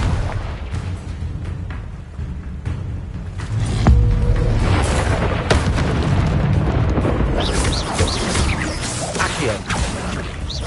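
Repeated Confringo blasting-curse explosions from the Harry Potter spell ring out as a string of booming blasts and crashes with whooshing bursts, dense and loud across the whole stretch.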